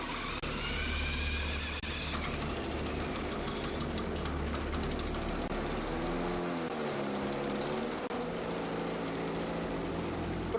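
An engine runs steadily during an electromagnetic generator test aimed at shutting the motor down, a low continuous rumble with a shifting hum that dips and wavers partway through, with no talk.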